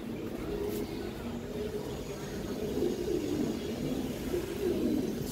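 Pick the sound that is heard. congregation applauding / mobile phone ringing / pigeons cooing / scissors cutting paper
pigeons cooing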